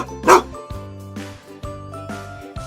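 Dogo Argentino gives one loud, close bark near the start, then quieter tonal whines and yelps follow in short bursts.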